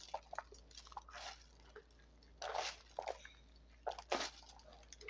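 Sliced bitter gourd (ampalaya) squeezed by hand without added water, giving wet squishing and dripping bursts in several close, uneven squeezes over a low steady hum.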